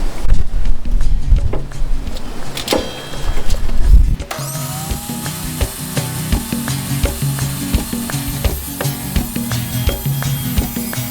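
A saw cuts through MDF board indoors: scraping and rubbing at first, then a steady motor whine with a rough cutting rasp running close and loud.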